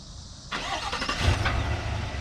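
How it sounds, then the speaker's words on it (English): A 2021 Chevrolet Tahoe High Country's 6.2L V8 cranks and fires up by remote start, a quick whirring start settling into a low, steady idle, heard close with no talk. "Push and hold the start button on the second time to start the vehicle up with the remote start"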